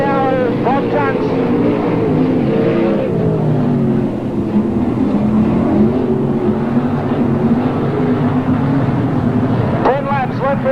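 Sprint cars race through a speedway main event, engines droning and revving steadily under an excited commentator's continuous talk.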